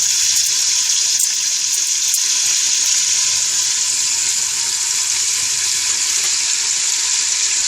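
Cumin seeds and bay leaves sizzle in hot ghee, giving a steady, close, bright frying hiss that stays even from start to finish with no voices.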